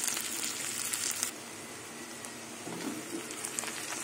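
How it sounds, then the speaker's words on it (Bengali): Chopped onion and garlic with slit green chillies frying in a pan, a continuous broadband sizzle that drops slightly in intensity partway through, close and steady with no voices. "এবার পেঁয়াজ রসুন কিছুক্ষণ ভেজে দেবো একসাথে।"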